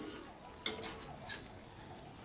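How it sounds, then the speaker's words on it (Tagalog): Chicken liver being stirred in a pan, a few faint metallic clinks and scrapes from the utensil over a quiet sizzling background. "Yan, haluin lang po natin."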